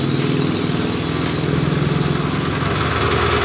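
A Yamaha Mio M3 scooter engine runs steadily at idle after its top dead centre position is set, a continuous close-up mechanical hum with a fine regular pulse and no talking.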